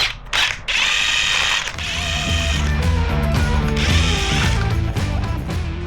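A ratchet wrench clicks as bolts are loosened during an oil change on a Harley Sportster, a loud, close run of rhythmic mechanical clicks and turns with a brief pause near the start.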